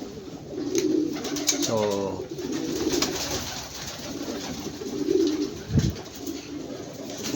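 Pigeons cooing softly nearby at a pigeon loft, with repeated throaty coos and a few wing flaps over a steady background murmur, and a voice speaking briefly.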